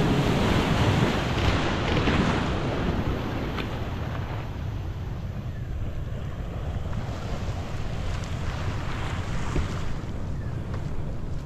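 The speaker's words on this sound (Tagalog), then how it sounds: "Grabe ang linis ng dagat dito." Sea waves wash against a clean shoreline while wind buffets the microphone, a loud, continuous roar that eases slightly partway through.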